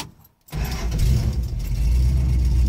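A 1970 Dodge Charger V8, fitted with a newly installed Accel distributor and carrying an exhaust leak on the driver's side, cranks and fires at about half a second, then settles into a loud, steady, rumbling idle close by.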